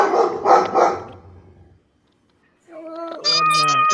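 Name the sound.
dogs barking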